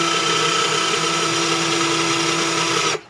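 A Black and Decker GC1800 cordless drill bores into metal under steady pressure, giving a continuous high motor whine with a strong tonal hum that holds level for about three seconds, then cuts off abruptly.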